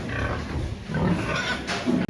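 A sow grunts and snorts close by in a noisy farrowing barn, several low rough grunts scattered across the moment with rustling and clatter around them.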